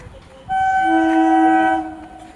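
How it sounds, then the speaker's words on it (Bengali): A train pulls into Chandpara station, sounding one loud, close horn blast that holds steady for over a second with a rich, chord-like tone before cutting off, over quiet background rumble. "ট্রেন ঢুকে গেল চাঁদপাড়ায়,"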